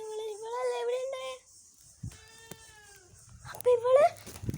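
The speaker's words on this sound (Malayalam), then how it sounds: "പൂച്ച കരയുന്നു" A cat meows several times in a row, each drawn-out cry standing out clearly in a quiet indoor space, with brief gaps between the calls.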